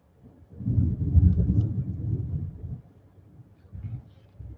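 Low, rolling thunder rumbles from a distance, swelling over a couple of seconds, easing off, then returning more softly near the end.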